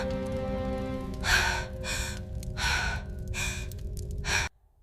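A series of four or five sharp, breathy gasps in quick succession over a low droning background, then sudden quiet.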